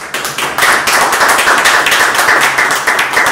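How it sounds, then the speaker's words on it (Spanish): A crowd at a book presentation in honor of a Malvinas war veteran colonel applauds steadily, a thick sustained patter of many hands clapping at close range with no talking. "Y pido un fuerte aplauso por él."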